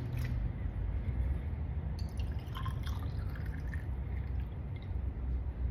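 Liquid poured into the intake port of a small four-stroke OHV engine during a valve leak test, giving faint trickling and dripping sounds over a low background hum.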